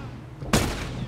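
A single sharp gunshot in The Last of Us, a sudden loud crack halfway through that decays quickly against a low background hum.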